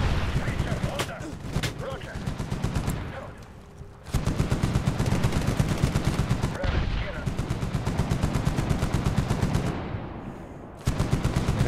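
Rapid machine gun bursts in the video game Medal of Honor rattle in long rhythmic strings, loud and close, with brief pauses between volleys and a voice speaking faintly underneath.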